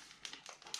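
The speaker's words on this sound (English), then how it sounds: "Then I'm going to remove that adhesive backer" Adhesive backer paper peeled off a craft paper file folder, a short dry crinkling and tearing with a few soft crackly bursts, quiet and close, no voices.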